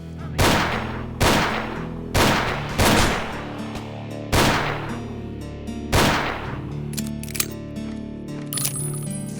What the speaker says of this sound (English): I especially came to fancy the sound of the revolver.